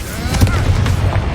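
A Confringo spell blasts in Hogwarts Legacy, giving a loud, close, rumbling boom with crackling impacts under a continuous heavy game din.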